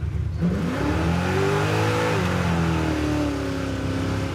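Roadkill Garage Crusher Camaro accelerating hard up a highway on-ramp, its engine note climbing through a gear change and rising again, loud from inside the car.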